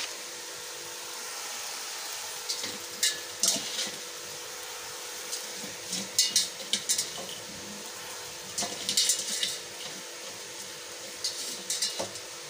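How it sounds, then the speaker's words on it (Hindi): Spinach is stirred into a simmering keema curry in a pan, with intermittent scraping and clinking of a spoon against the pan over a low, steady sizzle. "अब मैं पालक को मिक्स करने लगी हूँ इसमें"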